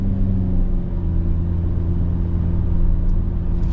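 A 2024 Hyundai Venue SEL cruises along a road, its steady low engine and tire rumble heard from inside the cabin, even and continuous with no talking.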